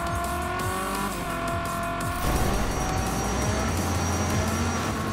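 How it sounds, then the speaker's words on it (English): A toy car drifting around a turn in the Hot Wheels video game, with a steady engine drone and tire squeal that grows louder and rougher partway through, running continuously without speech. "that was a beautiful drift"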